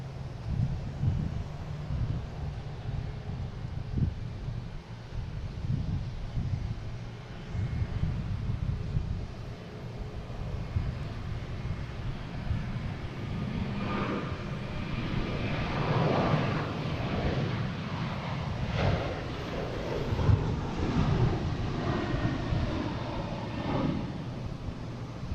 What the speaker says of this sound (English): We got a Delta 767 coming in from Dublin